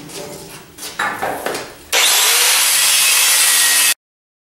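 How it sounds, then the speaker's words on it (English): A flap wheel on an angle grinder bites into the metal of a welding caddy with a loud, harsh, continuous hiss lasting about two seconds and then cuts off abruptly, after some brief scraping and handling sounds. "Just a little more work with the flap wheel"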